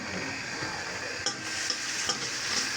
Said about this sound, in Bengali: একটু জল দিই, তো মাখো মাখো হবে।